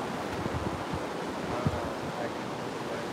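Ocean surf on a beach at night before a storm, a constant roar of breaking waves with wind rumbling against the microphone, steady and fairly loud throughout.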